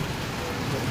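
Heavy storm rain pours down near an elementary school, a dense, loud, steady hiss of falling water.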